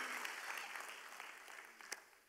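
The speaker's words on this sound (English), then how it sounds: "That's why we clap and celebrate everyone who stands up there." A church congregation claps for a couple during a Sunday service, a soft, fairly distant patter of applause that gradually thins out, with a few sharper claps near the end.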